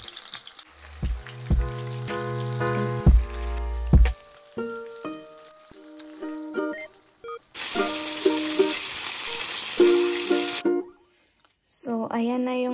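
Chicken frying in hot oil, crackling and sizzling steadily with bursts of louder spattering, alongside clattering utensils and a voice speaking.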